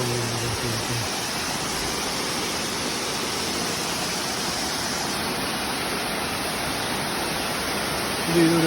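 Tamaraw Falls, a waterfall in Puerto Galera, Mindoro, rushing steadily, a dense broadband roar of pouring water that stays loud and close throughout.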